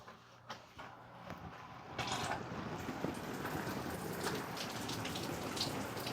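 Rain falls steadily onto a pocket raincoat during an outdoor test, starting as a light patter and building after two seconds into a dense, close, constant hiss of drops.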